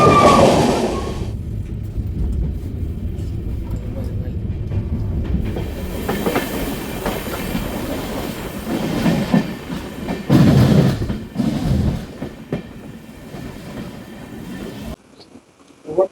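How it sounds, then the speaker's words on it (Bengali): The Amrit Bharat Express runs through Sheoraphuli Junction with a steady rumble and rhythmic clickety-clack of wheels, swelling with louder rushing bursts before cutting off abruptly. "শেওড়াফুলি জাংশনের 4 নম্বর প্ল্যাটফর্ম দিয়ে আমাদের এই ট্রেন থ্রু পাস করছে"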